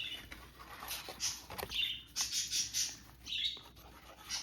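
Pet birds chatter indoors in short bursts of bright chirps and squeaky calls, fairly close and moderately loud with brief pauses between.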